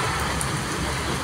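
Heavy, steady downpour hissing broadly and evenly throughout, a dense close wash of falling rain on flooded roads near RJ Tech Park on Sarjapur Road, with no voices.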